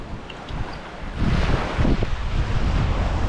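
Steady wind buffets the microphone, rumbling low throughout and growing stronger and rougher after the first second, with no voices.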